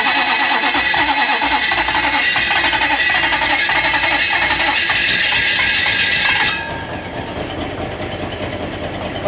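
Toyota 1UZ V8 in a sterndrive boat under repair, a loud cranking starter whine that catches into a rough running engine, then drops to a lower uneven idle near the end.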